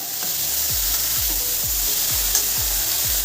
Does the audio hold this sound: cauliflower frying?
yes